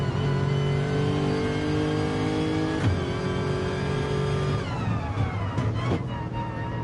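Race car in GT Sport at Mount Panorama, a steady loud engine tone climbing through gears with pitch drops at shifts, close and continuous with no talk.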